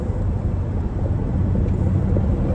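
A Ford Mustang driving on the road, heard from inside as a loud, steady low engine and road rumble with no pauses.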